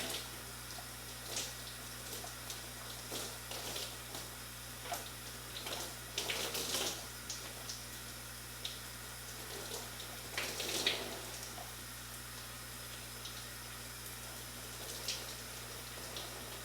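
Water runs steadily in a home shower while someone rinses gel out of type 4 natural curly hair, a constant broadband splashing hiss with brief louder splatters as the stream hits hair and skin, no talking.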